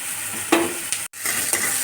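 Onion and tomato stir-fried with spice paste in a pan for a Bangladeshi small-fish chorchori, a steady close sizzle with three quick spatula scrapes and one brief dropout.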